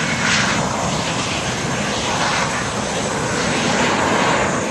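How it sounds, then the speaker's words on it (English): At an airport, a fixed-wing airplane landing or taking off gives off a loud, sustained engine roar that stays close and powerful throughout, with no speech. "we're watching airplanes land and take off."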